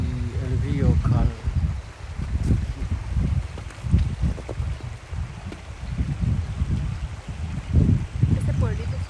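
The Cal river flowing past a tiny village in the woods, a steady rushing and trickling water sound heard close by beneath people talking.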